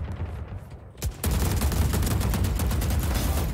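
Rapid automatic AK rifle fire in the shooter game Valorant, a sustained loud burst of closely spaced shots after a brief quieter lead-in, with no talk over it.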